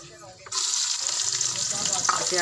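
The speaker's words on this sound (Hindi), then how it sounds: "अब हम इस ऑयल में वो डाल देंगे प्याज" Onions dropped into hot oil for a fried mongre and potato sabzi, a quiet start bursting into loud, continuous close sizzling that holds steady to the end.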